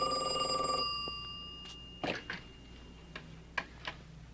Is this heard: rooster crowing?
no